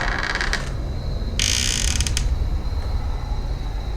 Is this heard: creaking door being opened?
yes